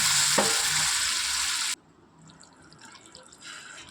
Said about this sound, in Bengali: তারপর দেখো এর মধ্যেই আমি দিয়ে দিলাম পরিমাণ মতো জল।